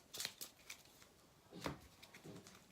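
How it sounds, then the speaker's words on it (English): A small deck of game cards for Shadowrun: Crossfire is shuffled up close, a few quick soft riffling bursts with brief pauses, quiet and without speech. "And just shuffling up. Small decks are always a pain to shuffle."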